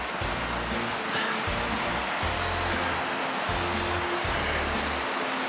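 A partly frozen river rushes and roars steadily and broadly, loud and constant, with a low rumbling throb beneath and no voices, heard on a nature center hike.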